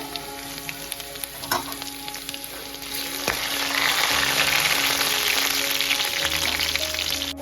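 Vegetables and spices tossed into a pan together crackle and sizzle, with scattered pops and stirring clatter at first, then a louder, fuller frying hiss building up midway and holding steady.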